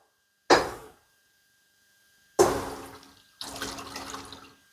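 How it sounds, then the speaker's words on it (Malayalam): Drumstick stock poured into a cooking pot for drumstick soup in three separate splashy pours, each starting sharply then trailing off, close and moderately loud with quiet gaps between and no talking. "മുരിങ്ങയ്ക്ക സ്റ്റോക്ക് ഒഴിക്കാൻ സമയമായി"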